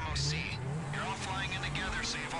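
A car drives in the video game GTA Online during a heist, its engine and tire noise running steadily under overlapping talk from several players.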